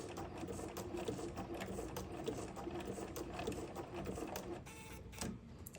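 Sewing machine with an overlock foot stitching at 5.0 width, a steady close rhythmic whirring and needle clatter running throughout at low volume, with no talk.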